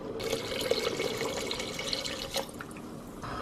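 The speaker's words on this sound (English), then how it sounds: "I'm actually gonna add a few cups of water until I get it to the kind of like consistency that I want" Water pours and trickles steadily into a soup pot of vegetables, a faint continuous splashing with no talk.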